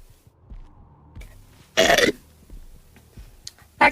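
A single loud, close burp erupts in the middle of a quiet stretch, brief and raspy, with a few small clicks and noises around it.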